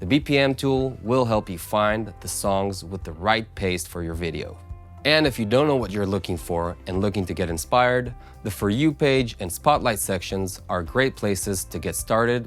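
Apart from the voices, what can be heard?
No everyday noise stands out behind the speech.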